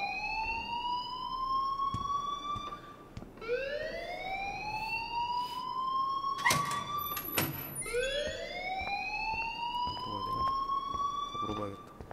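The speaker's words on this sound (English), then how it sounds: "please turn off that alarm since that's your job" A video game fire alarm whoops repeatedly, each loud electronic tone sweeping upward before cutting off and starting again. Four cycles play in steady succession, with occasional clatters mixed in.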